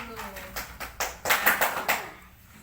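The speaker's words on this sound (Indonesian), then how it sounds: "Kita beri aplaus dulu." Scattered hand claps from a classroom of students, a series of separate sharp slaps building into a brief burst of applause over about two seconds, close and moderately loud, then trailing off.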